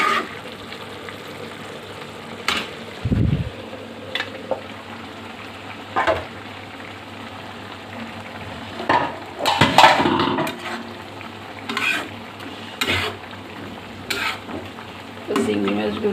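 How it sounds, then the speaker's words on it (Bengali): Taro leaves with a little tamarind stir-fried in a pan: soft background sizzle broken by intermittent scraping strokes and utensil knocks, with one louder clatter midway. "কচুর শাকগুলো আমি একবারে নেড়ে চেড়ে শুকনো শুকনো করে নামিয়ে নিব।"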